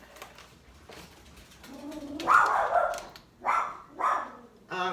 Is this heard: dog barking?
yes